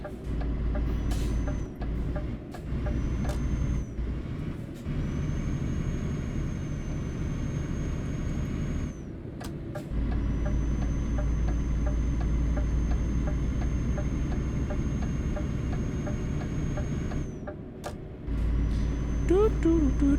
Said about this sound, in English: This truck just does not go faster than everyone else here.